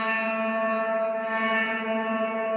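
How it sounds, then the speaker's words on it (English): A Line 6 Helix bloom reverb with a short rise time makes a sustained guitar chord swell quickly into a dense, shimmering wash that stays loud and even, with no talking. "the short setting is going to allow that sort of bloom or swell to be"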